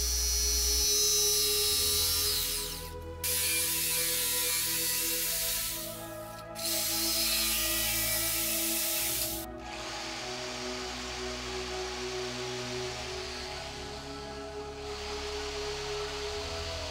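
A jigsaw cuts wood along a marked line, a steady buzzing motor with a few short pauses between passes, close and fairly loud with no talking.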